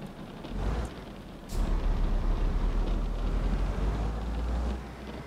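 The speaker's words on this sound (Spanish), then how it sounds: "Como llueve, ¿eh?" Steady rain pours in the Grand Utopia video game, a dense hiss with low rumbling underneath that swells louder after a brief dip.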